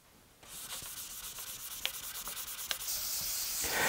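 Sandpaper rubs over a clear-coated surface by hand in quick back-and-forth strokes, a close, soft, rhythmic scratching that grows slightly louder toward the end, with no talking.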